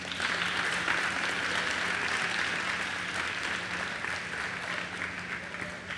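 An audience applauds at a Bharatanatyam dance recital event, a steady, dense wash of clapping that holds evenly for the whole stretch with no voices over it.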